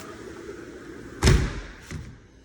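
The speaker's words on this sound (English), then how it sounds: "Closing and locking the screen door." A screen door at a house bangs shut with a single loud, close thud, followed a moment later by a softer click as it is locked, in an otherwise quiet room.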